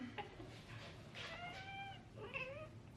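A cat named Willow meowing, a few drawn-out, nearby cries with rising and falling pitch, one after another in a quiet room.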